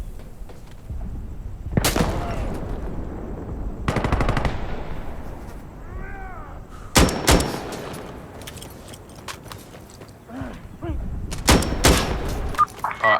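Automatic rifle fire rattles in loud, abrupt bursts in the Insurgency Sandstorm video game, several separate volleys with quieter stretches of game noise and clatter between them.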